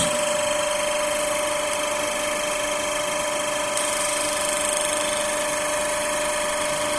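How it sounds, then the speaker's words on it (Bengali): A synchronous motor runs as an induction motor at about 1500 rpm, giving a constant, even hum with a steady high whine and no change in speed throughout. "এটা একটা ইন্ডাকশন মোটর হিসেবে চলছে"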